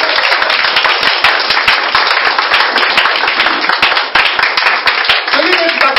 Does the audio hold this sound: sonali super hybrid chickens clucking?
no